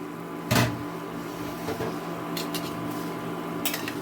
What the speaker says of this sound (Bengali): এখন আমি ঢাকা চাপাটা তুলে দিচ্ছি